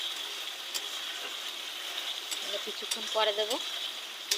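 Turmeric powder fries in oil in a pan, giving a steady, bright sizzle throughout while someone speaks briefly over it.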